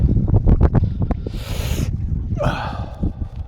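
Wind gusts across the microphone at the seashore, with loud irregular low buffeting and a brief airy rush in the middle, alongside some breathy snort-like noises.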